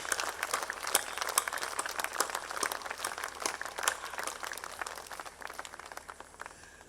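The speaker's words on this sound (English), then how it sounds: "Let us for a moment stand up in big venerable ovation and clap for Father Maria Bodwig and all his followers" Dense, quick clapping from an audience giving a standing ovation at a missionary sisters' centennial cultural program, fairly soft and continuous before thinning out at the end.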